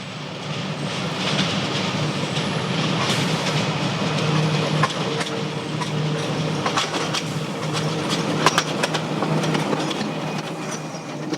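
A train from Moulmein on the Burma Railway rumbles steadily past with rolling wheel noise and intermittent clicks and clanks, loud and continuous with no voices.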